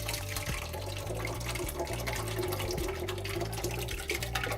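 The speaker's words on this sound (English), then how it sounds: "it's tomato sauce going in a pot, not something else." Tomato sauce for a lasagna pours slowly into a pan, giving a continuous wet, gurgling liquid flow that stays steady and fairly loud throughout, with no talking.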